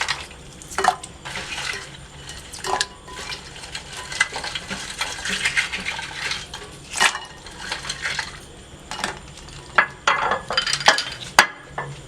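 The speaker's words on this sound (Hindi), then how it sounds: "अब मैं इसमें बर्फ़ ऐड करूंगी।" Ice cubes drop into freshly strained falsa (phalsa) sharbat, giving scattered sharp clinks and knocks against glass and dishware, close by and irregular, with soft liquid sounds between.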